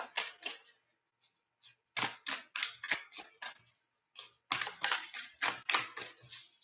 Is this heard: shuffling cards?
yes